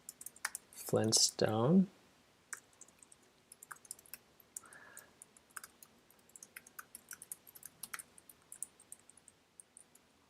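Light, rapid clicks of a computer keyboard scattered through the stretch, faint and close, typing a name into a school parent directory form after a brief spoken word.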